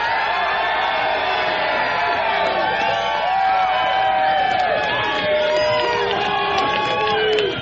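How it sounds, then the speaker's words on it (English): A studio audience at a radio talk show cheers and whoops, and a crowd roar swells and holds for several seconds. Excited shouts rise and fall in pitch over the noise. "let's give a big round of applause"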